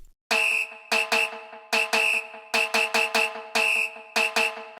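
A shrill samba whistle blasts in a syncopated rhythm, short and long toots repeating over a few seconds, loud and close.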